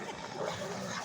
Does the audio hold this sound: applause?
no